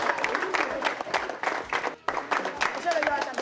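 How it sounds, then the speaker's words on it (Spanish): A group claps in short, dense bursts at a youth football gathering, with voices talking and calling out over the clapping and a brief dip midway. "Un aplauso."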